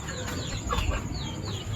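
A hen sitting on her eggs clucks in a few short, close calls among soft background farmyard noise, with a louder burst near the middle.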